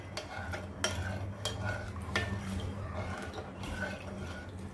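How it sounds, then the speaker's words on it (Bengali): A spoon mixes spice into potato filling for panipuri, repeated sharp taps and scrapes against the bowl in an uneven rhythm, close and moderately quiet, with no talk. "এটা এখন ভালো করে সব কিছুর সঙ্গে মিশিয়ে নেব"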